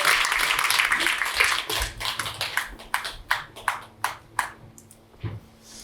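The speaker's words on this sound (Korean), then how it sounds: "우리 환영자들 큰 박수로 부탁드리겠습니다" Applause from the audience at a Korean business seminar, a dense clapping wash at first that thins into a few scattered, separate claps toward the end.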